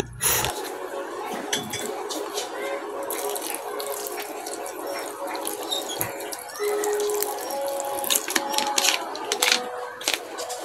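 Spiced vinegar poured over tofu and cucumber, a steady close trickle and splash lasting throughout, with faint chirps in the background.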